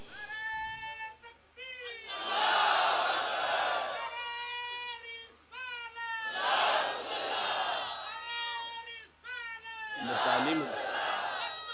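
Crowd at a religious gathering shouting a slogan in call-and-response bursts, three loud massed roars alternating with a single voice leading between them, echoing in a large space.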